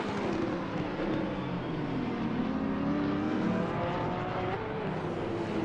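A racing car at Imola holds full throttle over a crest and down the hill, its engine a loud, sustained roar with a slowly shifting pitch and no talking.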